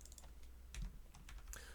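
Computer keyboard typing during copying and pasting, a quiet run of irregular key taps with a few louder strokes over a soft background hum.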